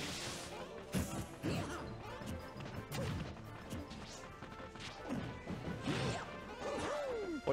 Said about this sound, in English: Synchronized up smashing.